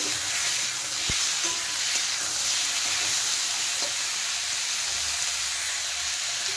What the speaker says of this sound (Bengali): এখন আমি এখানে কেটে রাখা আলুটা দিয়ে দিচ্ছি আর দিয়ে দিচ্ছি টমেটো। এই টমেটোটা কিন্তু কাঁচা টমেটো। তা এখন এগুলো ভালো করে নেড়ে চেড়ে কষিয়ে নেব।